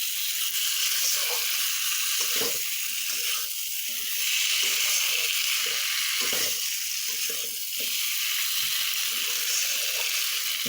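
Spiced curry masala being fried and stirred in a pan, a steady broad sizzle with intermittent scraping stir strokes, close and continuous.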